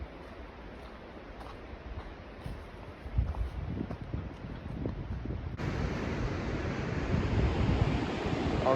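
Pacific Ocean surf along the Washington coast, a broad wash of waves and wind buffeting the microphone, growing louder and fuller partway through and then holding steady.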